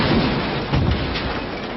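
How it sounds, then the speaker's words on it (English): A film explosion from the 1990 action movie Dark Angel rolls out as a loud, muffled low boom and sustained rumbling debris, steady and heavy for under two seconds with no voices. "that's like the third explosion in the first 20 minutes"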